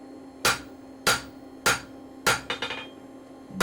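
A roughly four-pound hammer strikes hot metal on an anvil while forging a point, four sharp evenly spaced ringing blows followed by a quick cluster of lighter taps, close and clear with no talk.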